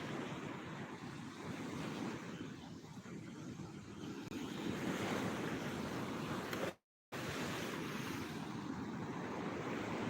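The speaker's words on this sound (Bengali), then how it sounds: "গার্ডওয়ালের পাশে থাকতেও ভয় লাগবে সেইভাবে জলোচ্ছ্বাস হচ্ছে দীঘায়" Stormy sea surge crashes against the guard wall at Digha beach as a continuous heavy roar of surf mixed with wind buffeting the microphone. A brief dropout cuts the sound partway through, and no voices are heard.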